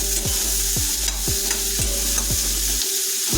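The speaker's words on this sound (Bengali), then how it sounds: "রসুনটাকে আমরা 2 মিনিট ধরে ভাজা করার পরে পেঁয়াজ আর কাঁচা লঙ্কাটা যোগ করে দিচ্ছি" Onion and green chili fry with garlic in a pan, a loud close sizzle broken by regular scraping stir strokes about every half second, ending abruptly.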